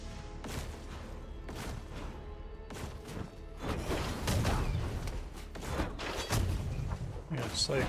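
Explosions from pirate attacks in the video game Rogue Legacy 2, heard as repeated booming bursts in an irregular rhythm over a dense, busy game soundtrack.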